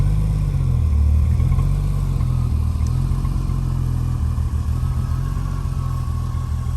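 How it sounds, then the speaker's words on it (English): Deep, steady exhaust rumble from a 1988 Jaguar XJS with the intermediate mufflers removed, a continuous low drone holding at a constant loud level with a slight swell near the start. "So you can hear it's got a nice kind of rumble."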